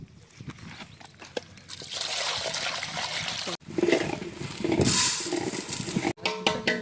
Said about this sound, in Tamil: இப்போ நம்ம கறி அலசிக்கிடுவோம்.